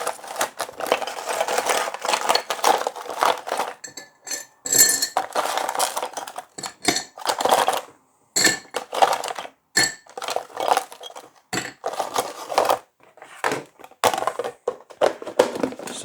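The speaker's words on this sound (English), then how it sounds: "We can add ice and stir." A cocktail made with wine in place of vermouth is stirred over ice, producing close, busy rattling and clinking of ice cubes against glass in irregular bursts separated by brief pauses, with no talking.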